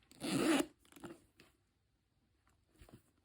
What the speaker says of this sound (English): And it has one zipper opening.